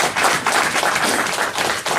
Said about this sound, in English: I think we should give ourselves a round of applause